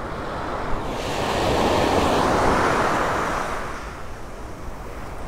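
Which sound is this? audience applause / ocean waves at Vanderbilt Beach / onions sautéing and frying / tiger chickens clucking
ocean waves at Vanderbilt Beach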